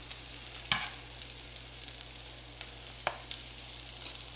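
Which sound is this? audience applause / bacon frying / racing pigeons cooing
bacon frying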